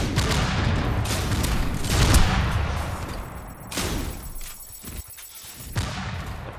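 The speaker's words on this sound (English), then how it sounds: "That guy loves to throw grenades." Grenade blasts in the game Tribes 3, heavy booming bursts that come in quick succession over dense battle noise, with a ringing tone in the background.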